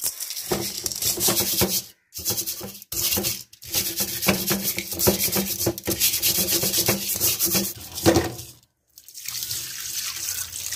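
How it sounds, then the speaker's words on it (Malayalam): Karimeen (pearl spot fish) being rubbed with coarse rock salt to clean it: rough, gritty scrubbing strokes repeated in bursts with wet, watery scraping and short pauses between. "നമുക്ക് കല്ലുപ്പിട്ട് ഒന്ന് ക്ലീൻ ചെയ്തെടുക്കാം."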